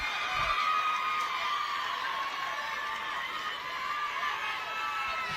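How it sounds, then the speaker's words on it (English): A large crowd roars and cheers without pause at a ladies Gaelic football final, the London junior and intermediate championship at McGovern Park. The dense, wide wash of voices holds steady throughout. "You can hear the crowds going wild here now today"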